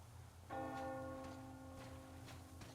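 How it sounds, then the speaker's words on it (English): A single distant bell strikes once in a Metro Exodus game world, ringing out clearly and then fading in a long, slowly decaying tone over quiet ambient noise. "Do you hear that bell?"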